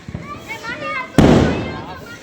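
Diwali fireworks and firecrackers outdoors, a sharp loud bang bursting after a second of children chattering, its crackling roar decaying over the following second.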